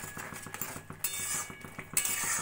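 A spoon stirs sabudana khichdi with peanuts and pepper in a pan on the stove, producing quiet, repeated scraping and clinking strokes in a steady rhythm, close and faint.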